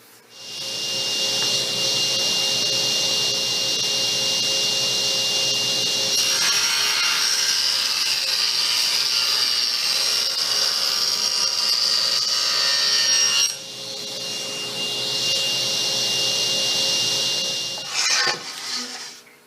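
Table saw cutting a recess in a wood panel, a loud steady high whine from the spinning blade that runs almost twenty seconds, with a rougher, grittier passage through the middle as the blade bites the wood.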